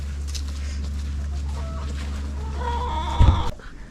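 On a homestead, a rooster clucks a few times over a steady low hum, ending in a louder burst of clucking.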